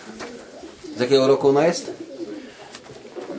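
Low, throaty cooing from a female racing pigeon in a short rolling burst, close by, with people talking over and around it.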